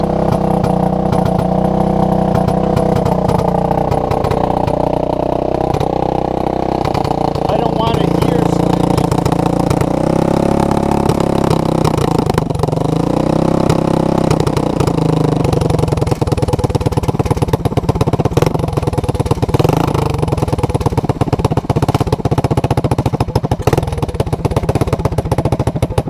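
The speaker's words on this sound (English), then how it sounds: "Idles up a little bit." A small ATV engine idles steadily after a carburetor replacement, a loud continuous close rumble that slightly shifts in pitch as it settles, with a person talking over it.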